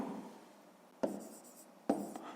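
Pen or pencil writing by hand on paper during a fifth-grade math exercise, with two short, sharp scratching strokes standing out above a faint, steady room hiss, no voices present.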